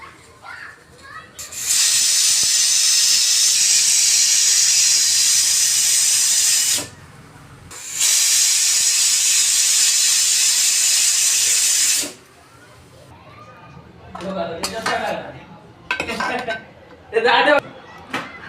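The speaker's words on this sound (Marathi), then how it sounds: "कुकरच्या 3 शिट्ट्या करून घेऊ" A pressure cooker cooking a spiced green chickpea curry releases two long, loud, close bursts of hissing steam whistle separated by a brief gap, followed by clattering and intermittent talking.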